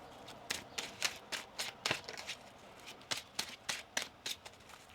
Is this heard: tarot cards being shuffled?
yes